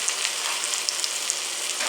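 Food sizzling in a skillet over nearly full high heat, a dense even hiss with tiny pops, close and steady for a brief moment with no speech.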